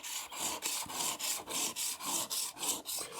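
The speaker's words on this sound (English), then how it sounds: "That's a cheap diamond stone from Harbor Freight that's doing just fine for this kind of purpose." A gardening tool edge drawn over a cheap 200-grit diamond stone, about a dozen rhythmic rasping strokes in steady back-and-forth succession, close and fairly quiet.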